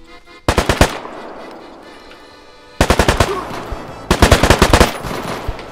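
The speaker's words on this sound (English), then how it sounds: "We're getting shot at." Automatic gunfire in the survival shooter game Deadside rattles out in three loud, rapid bursts of sharp shots, with quieter background noise between them.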